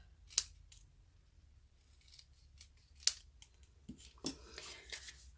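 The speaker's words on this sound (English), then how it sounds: "Using my paper snips." Paper snips cut around a stamped paper piece to leave a border, with a few sharp, close snips spread across the clip and softer paper rustling between them in a quiet room.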